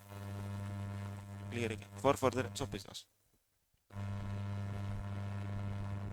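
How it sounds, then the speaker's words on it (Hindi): A classroom air conditioner gives off a steady low electrical hum. It runs under a man's lecturing speech, drops out briefly to near silence, then resumes at the same level. "एसी बंद करो, आवाज आ रहा है"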